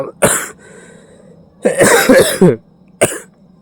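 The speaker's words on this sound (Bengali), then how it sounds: "কাশি হচ্ছে" A person with a mild cold coughing close up, in three bursts: a single cough, then a longer run of harsh coughs, then one final cough, with quiet pauses between.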